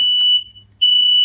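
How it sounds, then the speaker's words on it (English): A shrill, steady electronic smoke alarm tone sounds loudly in a kitchen while pancakes cook, cuts out for about half a second, then resumes at the same high pitch. "That's my smoke alarm going off."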